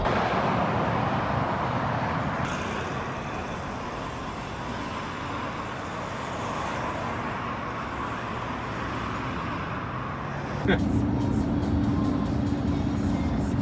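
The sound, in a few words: riding inside a lorry cab while hitchhiking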